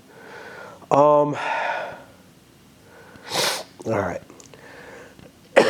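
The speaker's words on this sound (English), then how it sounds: "so that case of the sniffles, sounds like that's what I've got right now" Someone with a head cold makes a couple of sharp, breathy sniffs and a sneeze-like snort, spaced apart and close, with a brief spoken phrase in between.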